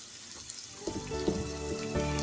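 Vermicelli drops into hot butter in a pan and starts to fry, a soft hiss that rises into a fuller, steady sizzle partway through, close and moderately quiet.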